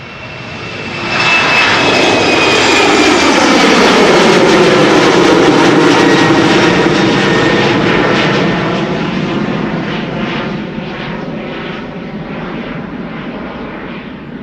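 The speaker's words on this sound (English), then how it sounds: "KLM Embraer 190 to Aberdeen." A KLM Embraer 190 jet takes off from Schiphol's Polderbaan runway. The engine roar swells fast to a loud, sustained rush, then slowly fades as the aircraft climbs away. No one speaks.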